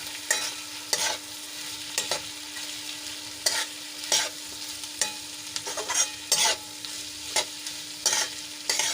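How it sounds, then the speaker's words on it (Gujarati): Mung beans being stirred into fried onion, potato and tomato in a hot pan, with a spoon scraping in repeated strokes over a faint steady sizzle and no voices. "હવે એમાં આપણે મગ એડ કરી લઈશું અને સરસ રીતે મિક્સ કરી લઈશું"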